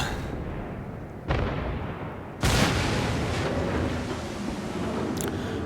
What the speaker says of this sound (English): the Pensacola is firing HE at me